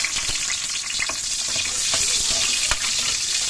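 Sliced onion is stirred into garlic already frying in a pan, a close, bright sizzle broken by scraping spatula strokes and small clatters, continuous and loud with no talking.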